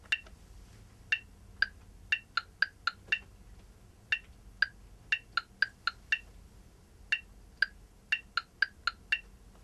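Crisp electronic clicks tap out a short rhythmic phrase, one slow beat, two quicker, then a rapid run of four, and the pattern repeats with no talking.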